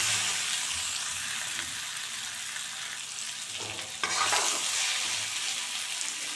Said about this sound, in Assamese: এনেদৰে আলুখিনি অকণমান ভাজি লগাই ল'ম।